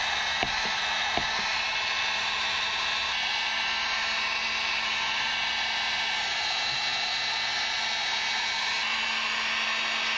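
A heat gun running on high setting blows a steady, loud roaring hiss while warming a plastic part, with a few faint clicks near the start and no talking.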